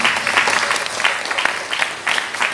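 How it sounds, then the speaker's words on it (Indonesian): A crowd at an Islamic boarding school gathering gives a short burst of applause, with lively, uneven clapping heard up close for a couple of seconds. "Boleh tepuk tangan."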